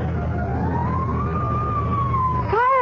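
A fire engine siren wails for a radio drama sound effect, one long rising and falling tone over a steady vehicle rumble, loud and near, switching to rapid yelping warbles at the end.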